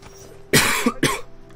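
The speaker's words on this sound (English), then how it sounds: "Excuse the cough." Two loud, close coughs in quick succession stand out over faint background game sound, followed by a brief throat-clearing rumble.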